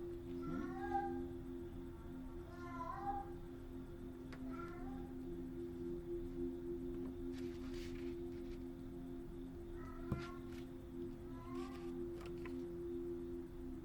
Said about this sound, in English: You hear the cat talking some how long?